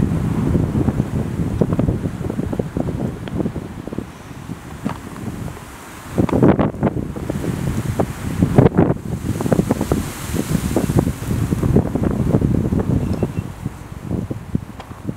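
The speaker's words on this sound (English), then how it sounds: "wind" Steady wind buffets the microphone on an Adirondack lake hike in autumn, a loud continuous rumbling roar with gusty surges and rustling, no voices over it.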